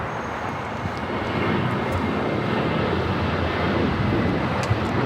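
An airliner takes off from a runway at LAX with a loud, steady roar of jet engines that swells and holds, heard alone without voices.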